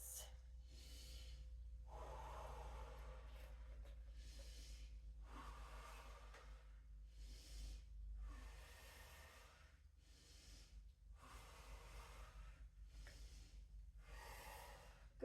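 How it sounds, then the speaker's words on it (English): Slow, deep breaths in and out during a yoga stretch, long airy swells repeating at an even pace, close and soft with no talking over them. "So I'm just going to breathe in and breathe out."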